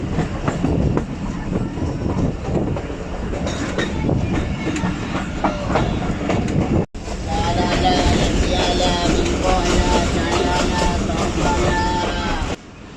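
Thal Express train pulling out of Dumel railway station, a steady loud clickety-clack of wheels over rail joints with rumbling carriage noise, heard from on board and continuing throughout with a brief cut midway.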